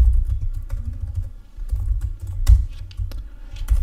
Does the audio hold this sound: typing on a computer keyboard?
yes